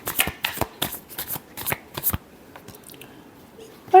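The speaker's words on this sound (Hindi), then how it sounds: "last shuffle" Tarot cards being shuffled by hand, a run of quick crisp riffling bursts in the first two seconds followed by softer scattered card taps, close and clear with no talk.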